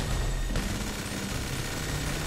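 Sustained minigun fire from GTA V during a multiplayer battle, a dense continuous roar of rapid shots running the whole stretch with a sharp change in texture just after the start, loud and unbroken with no talk.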